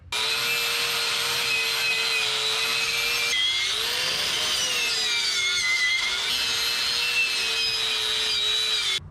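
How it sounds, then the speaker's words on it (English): A power wire wheel scours grime off the old metal of a U-Haul truck, a loud continuous whine with a rasping scrub that dips in pitch midway as the load changes. "We're gonna get that crap off there because we're gonna wire wheel that a little bit"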